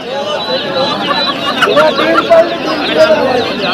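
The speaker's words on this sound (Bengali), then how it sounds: "তাই দেখতে পাচ্ছ চীনা মুরগি" Chinese chickens cluck in short bursts at a busy outdoor poultry and pigeon market in North 24 Parganas, heard close amid people talking and general crowd bustle.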